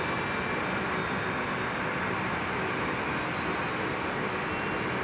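Pink Alliance Fokker 70 jet at Brisbane Airport, a dense continuous engine rumble and roar, steady and fairly close for the whole stretch, with no one talking over it.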